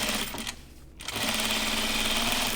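A sewing machine runs close by while understitching a seam allowance, a fast buzzing motor rattle that stops briefly for a moment near the start, then resumes steadily to the end.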